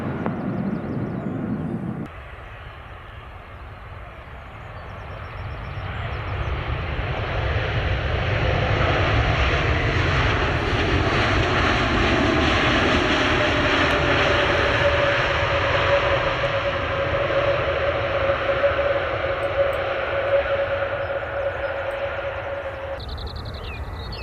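Aircraft engines at Manchester Airport roar across the airfield, swelling after a brief lull into a loud, sustained rumble with a steady whining tone that holds for many seconds.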